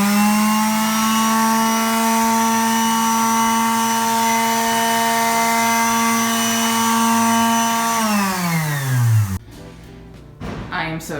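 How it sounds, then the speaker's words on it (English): A power sander scuffs the edges of a laminate countertop with a loud, steady motor whine that winds down in pitch and stops, followed by a few faint knocks. "I'm going to sand them next just to get the surface"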